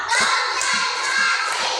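A group of schoolchildren clapping in rhythm on command, with repeated loud beats over a dense, noisy background of voices.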